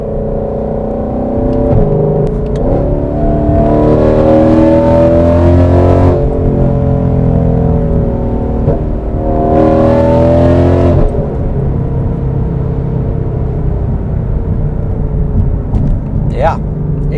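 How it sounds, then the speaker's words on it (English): A 760 HP Ford GT500 with a loud aftermarket exhaust revs and accelerates hard in two strong bursts, each rising roar dropping back to a deep idle rumble, with people talking between pulls. "experience this car with this badass exhaust"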